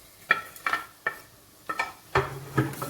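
Onions browning in a pan for masala stuffed karela, with about seven sharp spatula scrapes and knocks against the pan in an uneven rhythm over a soft sizzle, close up and without talk.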